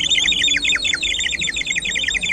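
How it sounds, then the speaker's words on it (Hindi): Ceramic toy bird at an outdoor fair giving off bright, rapid chirping and tweeting, loud and continuous over a low murmur of fair background noise. "चिड़िया की आवाज आ रही है। तो ये चिड़िया बनी हुई है चीनी मिट्टी से।"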